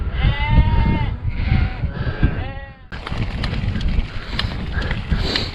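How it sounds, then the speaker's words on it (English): Several sheep bleat loudly nearby in a pen in Upper Teesdale, wavering calls overlapping at first, followed by a rustling, noisy scramble of the flock. "quite a lot of sheep in a pen."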